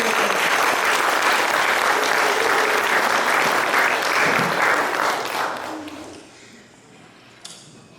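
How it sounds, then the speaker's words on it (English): Loud, sustained applause from the audience at a 63rd class reunion fills the room, then thins out and fades toward quiet near the end. "I want all of us to give them a big round of applause."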